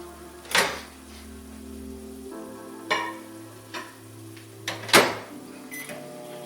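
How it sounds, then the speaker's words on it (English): A microwave oven hums steadily, with a few clicks and clunks breaking through the drone. No one speaks. "All I gotta do is microwave this."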